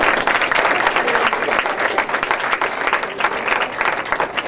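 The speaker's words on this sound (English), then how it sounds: "So let's give her a round of applause." A room full of people claps steadily for a cook at a study abroad meeting, dense, even applause lasting throughout without any speech on top.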